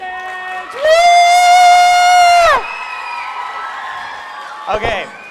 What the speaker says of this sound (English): Let's give a round of applause for our technicians!